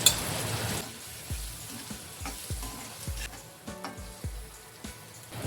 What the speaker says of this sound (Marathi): कांदा मसाला आपण परतून घेऊया.